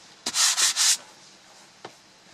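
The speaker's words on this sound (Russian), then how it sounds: "Осталось шлифовать." Sandpaper rubbed over an aspen wood trough in three quick, loud back-and-forth strokes, then a single faint scrape after a pause.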